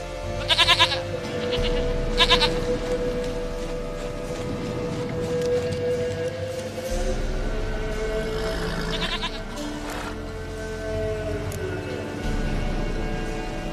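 A goat bleats in The Witcher 3 video game, several sharp bleats early on and again later, mid-distance, over a steady outdoor ambience with a soft rain-like hiss.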